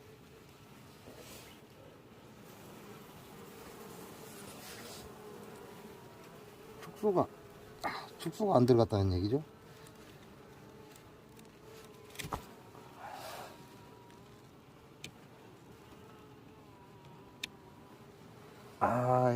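Honeybees buzz around an opened beehive throughout, a faint continuous hum with louder buzzes as single bees pass close. A beekeeper speaks briefly in Korean.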